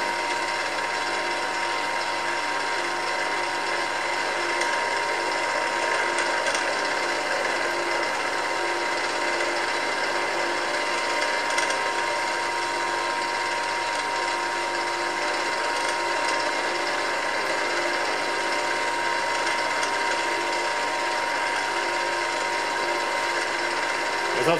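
A drill bores into a steel puller plate for a Ferguson TE20 tractor axle, a steady, loud mechanical grinding and whirring that runs unbroken for the whole stretch.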